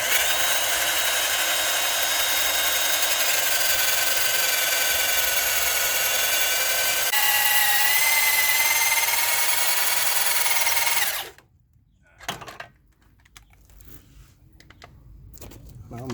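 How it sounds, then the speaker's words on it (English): Power drill boring steadily through the metal of a Jeep Cherokee during a Rough Country lift kit install, a loud continuous whine that shifts pitch partway through, then cuts off abruptly, followed by faint handling clunks. "Put the drill bit through and start drilling."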